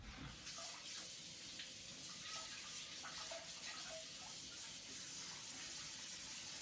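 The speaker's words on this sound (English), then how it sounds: "I'm going to wash this slurry off for finishing." Running water rinsing slurry off a Shapton waterstone, a steady close splashing flow with small irregular spatters, continuous and even in loudness, without speech.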